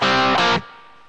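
A short, clipped staccato distorted electric guitar triple-stop chord, held about half a second and then abruptly muted, with a low amplifier hiss trailing after.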